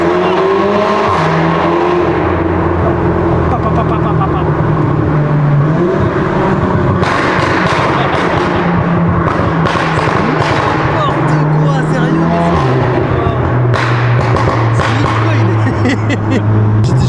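A tuned VW Golf 7 roars hard under acceleration inside a tunnel, its engine note rising and shifting through gears with crackles, very loud and continuous, with voices faintly underneath.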